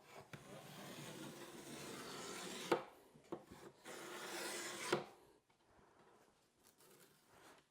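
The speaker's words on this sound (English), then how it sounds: "and then I trim the corners." A trimming tool cuts the vinyl wrap at the corners of a cornhole game board, making two long scraping, rasping passes at close range, each ending in a sharp snap, followed by quieter faint rubbing.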